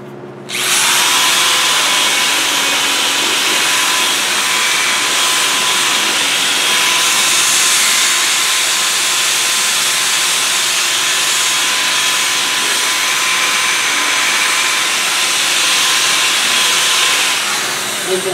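A power sander fitted with a sandpaper disc sands an alloy wheel, giving a loud continuous whine that starts abruptly and holds steady for the whole stretch, close up and alone.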